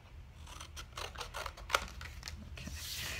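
Scissors snip through a paper book cover in a quiet room, a run of soft repeated cuts with light rasping and rubbing of paper between them.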